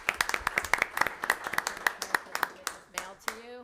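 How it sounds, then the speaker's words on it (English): A short burst of clapping from a small group at a city council meeting, scattered and uneven, fading out as a voice begins to speak. "let's just give them a round of applause"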